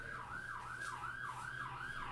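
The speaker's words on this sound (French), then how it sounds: "Les ambulances passent." Ambulance siren wailing in a steady rising-and-falling sweep, about a cycle every half second, heard at moderate distance above a low constant hum with no talking.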